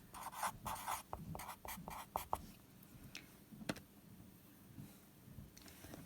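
Pen or pencil scratching across paper while a cosine law calculation is written out, a run of short quiet strokes and taps in the first two and a half seconds, then sparse faint marks over low room noise, no talking.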